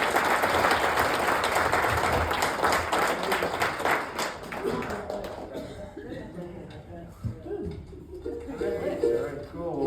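Crowd applause at a live bluegrass concert, a strong wash of clapping that fades after about five seconds into scattered claps, with people talking over the tail end.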